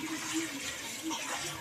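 Soaked wheat for khichdi is rinsed in water, giving a soft, steady sloshing and trickling of liquid at close range for a moment.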